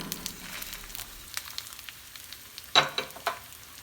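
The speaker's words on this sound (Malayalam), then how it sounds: "എണ്ണ ഒഴിച്ച് ചൂടായി വരുമ്പോൾ 15 ഉണക്കമുളക് ഇട്ട് കൊടുക്കാം. ഒന്ന് മൂത്ത് കഴിഞ്ഞാൽ ഒരു പ്ലേറ്റ് ഉണക്കച്ചെമ്മീൻ ചേർത്ത് കൊടുക്കാം" Fifteen dried red chillies and a plate of dried shrimp fry in hot oil with a soft, steady sizzle and scattered crackles and pops, one sharper spatter standing out near the end.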